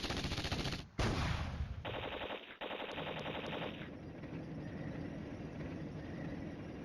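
Battle gunfire from the wargame Flashpoint Campaigns: Red Storm rattles in a dense, continuous stream of shots, with one sharp break and a burst of rapid bursts layered over a loud, steady background roar.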